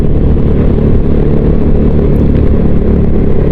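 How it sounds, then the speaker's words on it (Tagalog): Nine motorcycles riding together on a road, a loud, dense, continuous engine roar and wind rumble close by, steady throughout without talking. "Siyam na motor kami guys."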